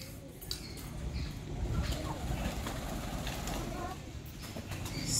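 Sialkoti chuhe pigeons kept by a pigeon fancier in Sialkot, soft low cooing murmurs sitting quietly under a faint rustling background, with a few brief sharper clicks and scuffs nearby.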